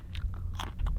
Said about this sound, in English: Carrots. It is actually so nice.